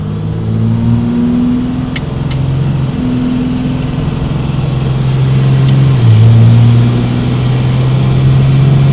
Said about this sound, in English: I'm barely giving it throttle, and we're holding about like 15 pounds of boost right now